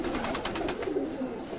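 A large, deep-netted Bahraich Kalsire pigeon coos in soft, rolling, repeated throaty calls, close and steady, with no other sound.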